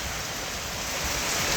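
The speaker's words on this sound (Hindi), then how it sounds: "लेकिन बादल अभी भी हैं और बारिश हो रही है" Monsoon rain falls steadily in Darjeeling, a dense, even hiss of rainfall heard close and fairly soft, alone without voices.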